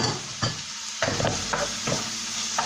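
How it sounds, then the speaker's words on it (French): Garlic, rosemary and thyme frying in a pan, a continuous close sizzle broken by rhythmic stirring scrapes about every half second, with no voices. "Alors on le fait revenir un peu pour que le goût soit un peu meilleur"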